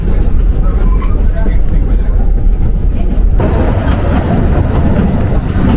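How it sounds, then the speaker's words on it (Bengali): The Shivalik Express narrow-gauge toy train runs on the Kalka–Shimla line in Himachal Pradesh, heard from on board as a loud, continuous rumbling clatter that grows rougher and heavier partway through. "শিবালিক এক্সপ্রেস খুবই জনপ্রিয় একটি ট্রেন, যেটির মধ্যে করে আমরা চলেছি"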